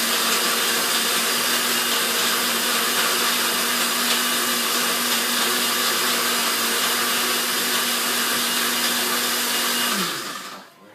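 A kitchen blender runs steadily on high pulse, blending a chocolate milkshake made with ice in place of ice cream. The motor drones loud and unbroken for about ten seconds, then spins down and stops.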